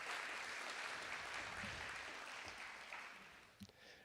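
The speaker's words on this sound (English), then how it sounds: "So let's give them another round of applause." Audience clapping for the caterer at a grant competition night, a dense steady round of applause that gradually thins and tapers off near the end, with no voices over it.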